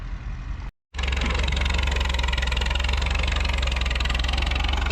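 A crawler tractor engine runs loudly and steadily while the tractor is loaded at a vintage vehicle show, after a brief cut-out near the start.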